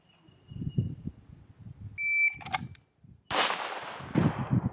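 Pistol shots fired during draw-to-headshot drills at 10 yards on a range, a sharp crack near the middle and a louder report later, with a shot timer beep and someone speaking in between.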